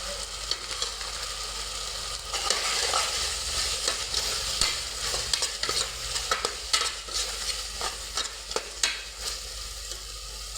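Tomatoes sautéing in a pan with salt for a millet vegetable biryani, giving a steady loud sizzle with frequent stirring scrapes and clinks throughout, no voices.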